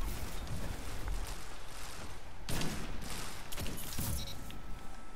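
Dense rapid gunfire in the video game Destiny 2, a continuous rattling fusillade with louder bursts near the middle and end, loud and close with no talk over it.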